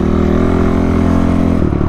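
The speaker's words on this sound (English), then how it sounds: "This engine pulls." A Honda CRF 450 motorcycle engine with a Yoshimura exhaust runs loud and close, a steady buzzing drone that shifts pitch briefly near the end, with no voices.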